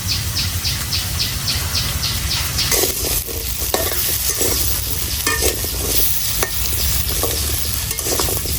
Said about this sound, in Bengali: সরিষার তেল দিয়ে হাঁসের মাংস রান্না করতেছি